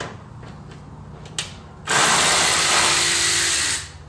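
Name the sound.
ratchet loosening a 10mm bolt on a Subaru WRX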